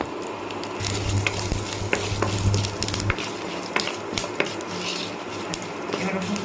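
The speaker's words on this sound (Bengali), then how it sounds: "প্রথমে তেলের ভেতর দুইটা শুকনা মরিচ আর কিছু পাঁচফোড়ন দিয়ে নিচ্ছি" Two dried red chilies and panch phoron crackle in mustard oil for a tomato chutney, with a steady sizzle broken by repeated sharp spoon-and-pan clinks and a low hum through the first half.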